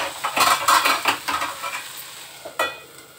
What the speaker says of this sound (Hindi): मैं सब्जी भी चला रही हूँ